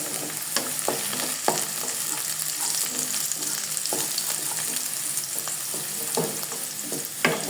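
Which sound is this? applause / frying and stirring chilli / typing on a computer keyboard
frying and stirring chilli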